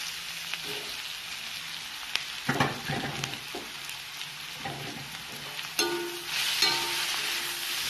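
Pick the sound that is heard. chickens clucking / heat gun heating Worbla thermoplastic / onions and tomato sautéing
onions and tomato sautéing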